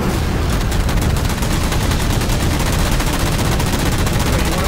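Rapid, sustained gunfire from the Halo 4 video game fills the whole stretch, loud and dense with no breaks, a continuous automatic-weapon barrage.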